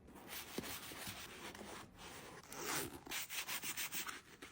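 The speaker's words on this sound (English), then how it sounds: "Lather it up with a damp horsehair brush and work in sections, wiping it all off with a clean microfiber cloth." A damp horsehair brush lathering white saddle soap across a vintage 1980s white Coach leather bag, making steady close rubbing and scrubbing strokes that turn into quicker rhythmic back-and-forth scrubs toward the end.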